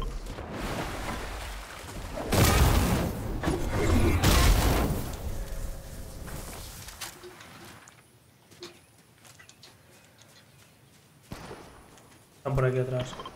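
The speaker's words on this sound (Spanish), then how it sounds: "Ahí se escuchan tiros" Bursts of loud Fortnite Battle Royale gunfire crackle and boom through the game soundscape, heaviest early on, with scattered quieter noises and a sharp burst near the end.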